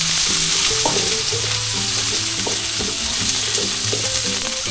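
Chopped onions sizzle and crackle in a little hot oil for fresh lumpia filling, a loud steady fry with rhythmic stirring knocks throughout.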